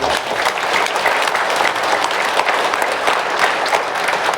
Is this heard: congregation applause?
yes